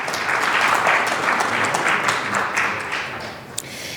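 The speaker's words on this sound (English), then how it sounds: "Can we have a round of applause for that?" A conference audience at the Jerusalem Post Washington Conference applauds in a dense, steady round of clapping lasting the whole stretch, loud and sustained with no talk over it.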